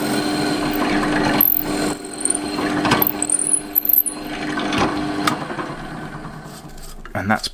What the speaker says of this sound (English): So line that up, and we can drill all the way through.